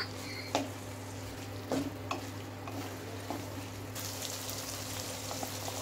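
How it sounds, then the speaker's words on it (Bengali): Chopped capsicum being stirred into frying masala in a pan, with a few distinct spoon-scraping knocks over a soft, steady sizzle and a low background hum. "এবার দেখো কেটে রাখা ক্যাপসিকাম গুলো আমি মশলার মধ্যে দিয়ে দিচ্ছি, দিয়ে ভালোভাবে আরেকটু কষিয়ে নেব।"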